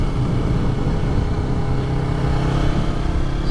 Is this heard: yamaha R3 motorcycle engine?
yes